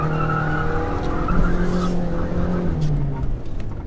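A ZAZ Lanos spins its wheels in second gear, tires slipping and squealing over a steady engine drone, close and fairly loud for about four seconds with a voice faintly present.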